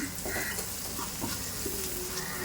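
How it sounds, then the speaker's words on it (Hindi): Turmeric powder dropped into a hot pan of sizzling oil while making potato bhaji for puri, a dense, continuous frying hiss with light stirring clatter close by. "ये देखें यहाँ पे मैंने डाल दी हल्दी"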